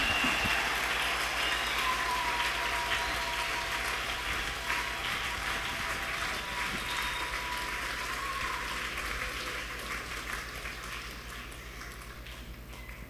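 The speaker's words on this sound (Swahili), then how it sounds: "Tumpe Yesu makofi tena mazuri ya shangwe" A church congregation clapping together in steady, dense applause that fills the room, slowly easing off toward the end.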